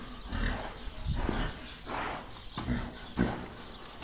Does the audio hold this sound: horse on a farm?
yes